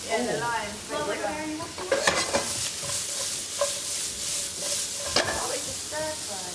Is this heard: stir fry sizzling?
yes